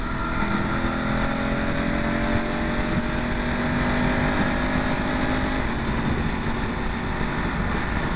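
A BMW F 850 GS Adventure motorcycle pulls through mud and branches off-road, its engine droning steadily with a continuous rising whine and rushing noise, close and dominant throughout.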